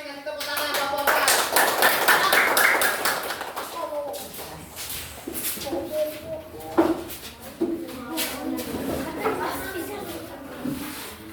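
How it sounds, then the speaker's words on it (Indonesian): A group of men in a classroom claps hands loudly for several seconds, then the applause breaks into scattered claps and taps mixed with voices talking. "Kasih tepuk tangan Bapak-bapak."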